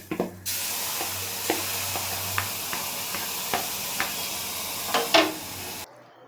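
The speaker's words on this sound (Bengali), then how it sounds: "এবারে আমরা এর মধ্যে আমাদের ম্যারিনেট করা মাংসটা দিয়ে দেব।" Marinated meat added to a pan of onions fried until translucent, giving a steady close hiss and sizzle broken by scattered spits and clinks, with no talking, before the sound cuts off.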